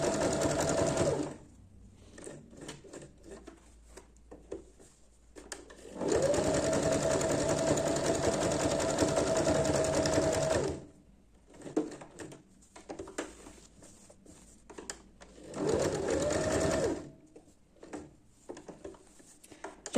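A sewing machine stitches straight and zigzag seams along the edge of an appliqué ornament in three loud, sustained runs of rapid needle chatter, separated by quieter pauses with light handling clicks.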